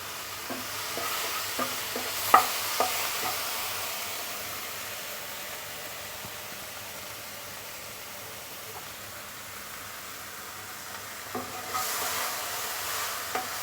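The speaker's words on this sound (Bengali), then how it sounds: "আমার মশলাটা কষানো হয়ে আসছে" Spice paste sautéing in a pan for a prawn curry, a steady soft sizzle with occasional stirring scrapes near the start and end, close and moderately quiet.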